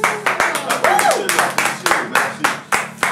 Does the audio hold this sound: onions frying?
no